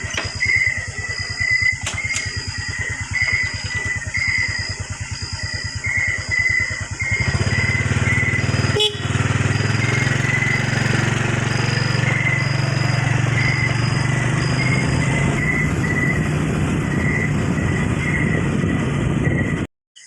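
A motorcycle engine drones loudly while riding along a highway, a fast rhythmic putter that smooths into a steadier hum partway through, with a sharp click before cutting off at the end.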